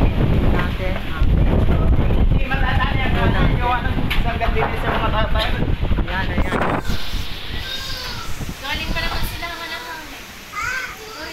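Strong wind from Typhoon Quinta roars and buffets the microphone in gusts, while voices talk and call out over the constant rush of air.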